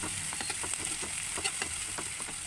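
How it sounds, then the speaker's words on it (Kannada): A tempering of coriander leaves and spices fries in hot oil for raw mango rice, giving a close, steady sizzle with crackling pops while it is stirred. "ಚೆನ್ನಾಗಿ ಫ್ರೈ ಮಾಡಬೇಕು"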